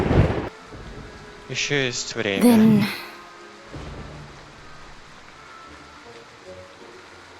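Stormy night in the game Identity V: a thunder crack bursts at the start, then a soft steady wash of rain continues under a voice speaking.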